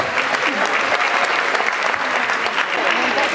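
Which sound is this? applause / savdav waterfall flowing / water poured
applause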